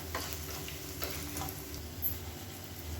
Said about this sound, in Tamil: லேசாக பெருங்காயத்தை பொரிய விட்டுட்டு இதை அப்படியே சட்னியில் எடுத்து கொட்டிடலாம்